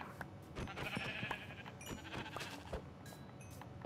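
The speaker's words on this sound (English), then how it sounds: "I just found like four sheep in a spot." Sheep in a video game bleat several times in short, distinct calls over a busy backdrop of game sounds, with no one talking.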